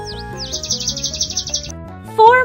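Chirpy cartoon bird tweets from a children's bird-counting video game, a rapid series of bright, high repeated chirps over a simple plinking musical background, ending with a brief rising electronic flourish.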